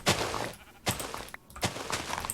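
Three short, nasal sheep bleats from a Minecraft sheep pen, close and fairly loud, spaced about three-quarters of a second apart with no talking.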